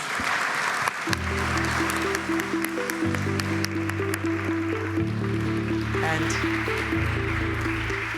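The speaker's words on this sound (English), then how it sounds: "Let us please give our panel a very warm round of applause." A conference forum audience claps for a panel, steady applause running throughout while sustained organ-like tones hold underneath, moderately loud and even.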